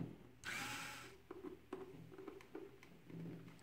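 An electric screwdriver tightens screws while installing a COBRA deadman control, a short close whirring burst followed by faint clicks and small handling taps.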